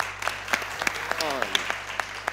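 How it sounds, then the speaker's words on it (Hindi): A burst of clapping, sharp separate claps from a small studio audience at a cricket TV show, with a voice speaking over them. "तालियां बजाओ इनके लिए"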